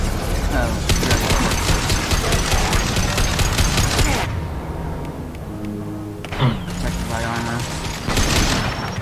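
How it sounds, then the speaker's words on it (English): Rockets and gunfire in the video game Mass Effect 2, a loud dense burst of firing and explosions with mechanical clatter, a quieter lull with tonal game sounds, then heavy firing again, with a voice speaking over it. "Your shooting rockets do not harm me."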